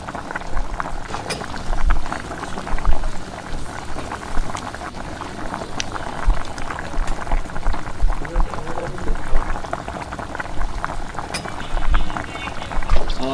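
Chicken pakora deep frying in hot oil, a dense, loud bubbling and crackling sizzle that surges and eases steadily throughout.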